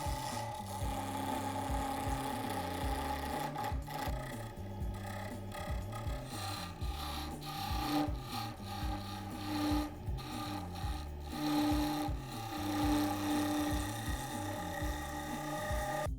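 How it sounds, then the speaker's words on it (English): A wooden pen blank spins on a lathe as a turning tool takes light passes, producing a steady, continuous rasping scrape with a rhythmic low rumble from the machine, close and alone without talk. "Turn your pen blanks down to the bushings, and then your finished pen parts will line up easily."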